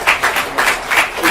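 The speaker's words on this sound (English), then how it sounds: "Round of applause for Peter." Audience clapping for a speaker at a business meeting in London, a short burst of rhythmic, moderately loud applause from a modest crowd.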